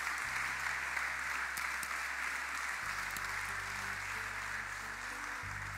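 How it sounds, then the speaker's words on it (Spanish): Church congregation clapping during a Sunday worship service, a steady continuous wash of applause throughout with soft organ or keyboard notes sustained underneath. "Dale un aplauso de gratitud al Señor."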